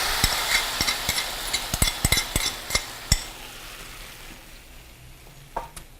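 Food sautés in a pan with a miso lemon mixture, a steady sizzle under repeated sharp clinks of a utensil stirring against the pan, the sizzle fading toward the end.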